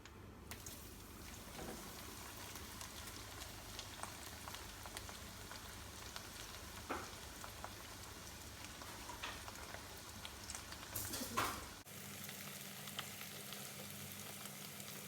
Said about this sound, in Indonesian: Tempenya digoreng sampai matang.